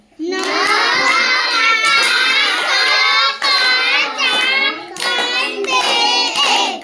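Schoolchildren chant numbers loudly in unison while clapping their hands during a classroom counting activity, with the voices nearly continuous and the claps mixed in under the shouting.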